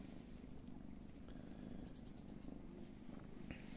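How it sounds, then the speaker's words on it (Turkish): A kitten purrs close by in a garden in Kemaliye (Eğin), Erzincan, Turkey, a steady low rumbling hum that continues without pause and with no talking. "Mırlıyor musun?"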